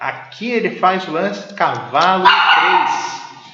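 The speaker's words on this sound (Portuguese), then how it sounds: "desculpa o latido dos cachorros aqui" Dogs barking in several short, loud bursts close by, yips and barks clustered in quick succession while someone talks over them indoors.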